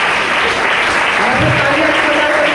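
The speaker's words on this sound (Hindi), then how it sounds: "जोरदार तालियां सबसे बजाइए" Loud, steady applause fills a hall at an empowerment training event in Panipat, the dense clapping continuing evenly without a break.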